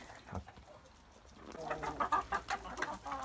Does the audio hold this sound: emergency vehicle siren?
no